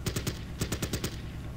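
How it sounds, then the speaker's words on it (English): Video-game machine-gun fire from a Mark IV female tank in Battle Academy WW1, two quick bursts of rapid evenly spaced shots, three then five, moderately loud and alone. "go ahead and open fire once again on this Stoßtruppen unit with some nice machine gun fire"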